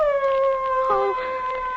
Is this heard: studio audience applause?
no